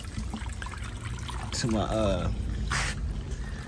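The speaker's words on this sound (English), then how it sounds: "Got to make sure I add some water" Water poured onto tomato plants in a hot outdoor garden, a steady trickling stream that holds throughout, with someone talking briefly over it.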